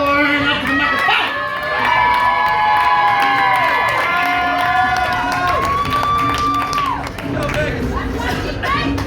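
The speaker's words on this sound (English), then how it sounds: "Let's keep that applause rolling as we welcome our first team of the night" Audience at a team poetry slam finals at an arts festival, cheering, whooping and clapping loudly throughout as a team is welcomed to the microphone, with shouted voices rising and sliding above the crowd noise.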